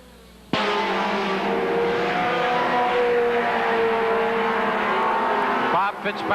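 Stock race cars roar around Seekonk Speedway at a 1984 weekly race, a loud, dense pack of engines droning steadily for several seconds after a sudden start, then breaking off near the end.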